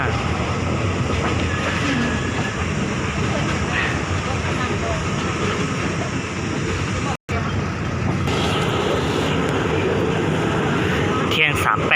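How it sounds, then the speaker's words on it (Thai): A train rolls into Ban Phachi station with a continuous loud rumble and rhythmic clatter of wheels on rails, heard close and steady while someone talks over it. "รู้สึกว่าเหมือนมีขบวนอะไรจะเข้าบ้านพาชีเหมือนกันนะ"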